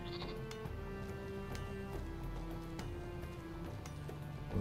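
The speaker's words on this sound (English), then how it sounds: "Now I'm gonna slay the sheep." A sheep bleats in the Northgard strategy game, a steady tone sustained over a busy bed of game music and ticking effects, fairly faint throughout.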